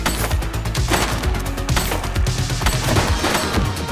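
Heavy gunfire rages in The Precinct police game, rapid overlapping shots and bursts close and loud, with occasional booming impacts mixed into a constant din.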